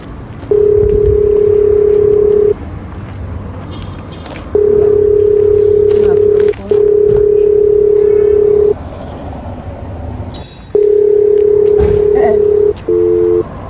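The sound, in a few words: telephone dialing and dial tone, calling someone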